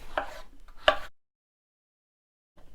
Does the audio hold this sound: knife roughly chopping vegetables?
yes